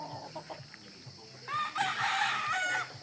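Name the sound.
rooster crowing on farm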